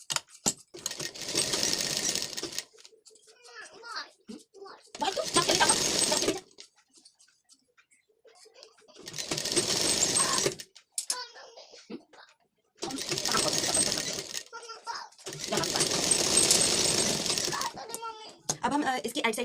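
Sewing machine stitching a lined blouse in four or five bursts of rapid, close whirring, each a few seconds long, separated by pauses with light handling noises and talk.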